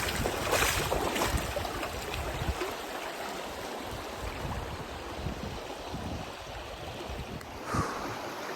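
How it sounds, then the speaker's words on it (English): A slow-moving mountain river on a Te Araroa trail flows with a steady broad rush up close, continuous and even, with a few louder splashes. "The old river's slow going."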